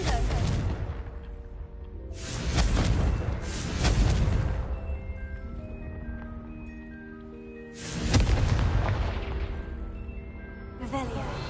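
Confringo explosive spell blasts in a Harry Potter video game, several booming bursts with rushing debris tails separated by quieter stretches of game music.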